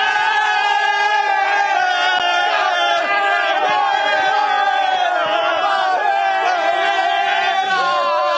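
Palmeiras football fans gather outside the stadium before an evening match, a loud, dense crowd roaring and chanting continuously with sustained massed voices and no pauses.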